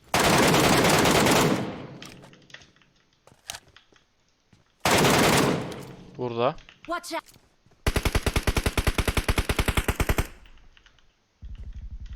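Loud automatic gunfire from the video game PUBG Mobile comes in rapid bursts with quieter gaps between them. Players speak briefly between the volleys.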